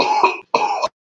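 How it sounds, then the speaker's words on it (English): Two close, harsh coughs from a person who has been coughing since the day before, the bursts separated by a brief gap, with silence following. "Been coughing quite a bit since yesterday."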